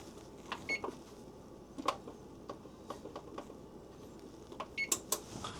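Several sparse, faint electronic beeps and clicks from an oven control panel being set, spaced irregularly over a quiet room background.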